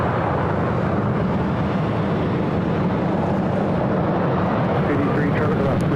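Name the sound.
Southwest Airlines Boeing 737-800 jet arriving at LAX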